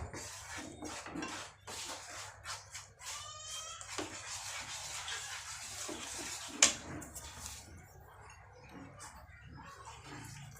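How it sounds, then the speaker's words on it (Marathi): Ladoo ingredients and jaggery are stirred together in a bowl, giving irregular clinks and scrapes of a utensil against the dish with soft rustling in between, close and fairly quiet. "आता हे सगळं मिक्स करून मग त्यात गूळ घालूया."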